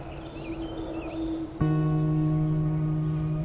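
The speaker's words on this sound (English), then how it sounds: "this blue-winged warbler is really belting it out" A blue-winged warbler sings a thin, buzzy high note over a steady insect-like drone and low background hum, fairly faint and distant.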